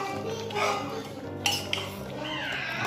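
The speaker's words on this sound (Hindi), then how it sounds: "अच्छे से मिक्स करना है" A dish mixed in a pot, a spoon clanking and scraping against the metal with a couple of sharp knocks over a busy kitchen background.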